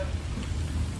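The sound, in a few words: rain falling outdoors at Miami Beach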